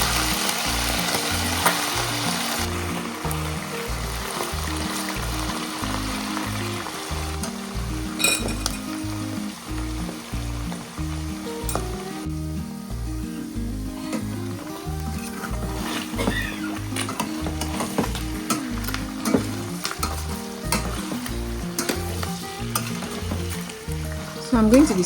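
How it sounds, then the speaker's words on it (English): Offal and onions frying in bleached palm oil for Nigerian ayamase sauce, a loud steady sizzle with rhythmic stirring and occasional clinks of a utensil against the pot. "And then I'm adding the offals to it. I'm just going to fry this a bit."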